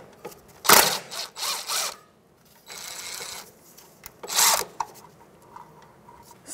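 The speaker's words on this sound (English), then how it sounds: "Remove the bolt." A 13 mm socket wrench works a bolt loose from a bracket on a 2007-2010 Chrysler Sebring, with short bursts of ratcheting clicks separated by pauses and a steadier whir in the middle.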